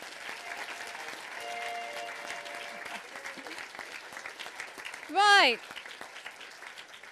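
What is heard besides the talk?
audience applause for the teachers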